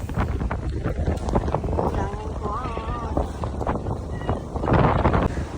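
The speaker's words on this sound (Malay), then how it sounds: "Waktu ni angin kuat dan hujan" Strong wind buffets the microphone at a ferry terminal on a rainy, blustery day, a steady loud roar with gusts, while people talk faintly underneath.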